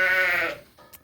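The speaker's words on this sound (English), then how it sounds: "So there is Lynn's little pet sheep" A sheep in a lambing pen on a farm gives one close, loud, wavering bleat lasting about half a second, followed by faint rustling.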